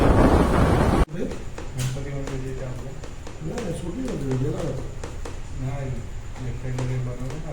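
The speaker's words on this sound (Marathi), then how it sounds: "पाऊस बघू शकता किती येते जोरात पाऊस आलाय" Steady heavy rain hisses throughout, loudest in the opening second, while someone talks over the downpour.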